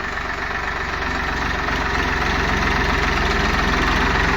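A farm tractor idles steadily nearby, a continuous low, even rumble with a faint knocking pulse that holds throughout without change.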